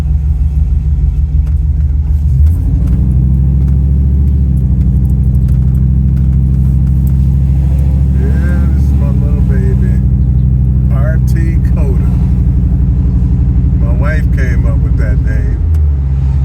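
Car engine idling at a street corner during a Fort Street cruise, a steady loud low rumble and hum throughout with people talking over it.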